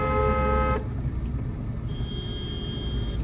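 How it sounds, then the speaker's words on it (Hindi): A car horn blares in one sustained honk for under a second, then cuts off, leaving engine rumble and road noise. "लॉन्ग हॉर्न प्रेस करो"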